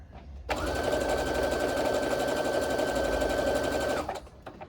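Sewing machine stitching fabric scraps onto a strip for a quilt, one steady continuous run of the motor lasting a few seconds, close and loud, starting and stopping abruptly.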